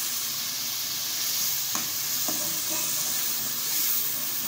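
Boiled potatoes and spices being stirred in a pan for aloo chutney, a steady sizzling hiss with a few soft scraping strokes of the spoon, close and fairly quiet.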